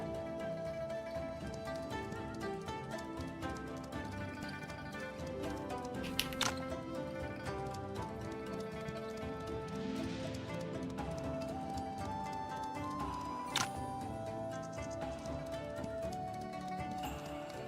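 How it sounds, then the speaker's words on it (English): Horse hooves clip-clop steadily as a rider travels in the martial-arts game Wandering Sword, blended into a dense bed of music and game sound throughout, with no speech. "As I just casually ride my horse in the middle of the demonstration."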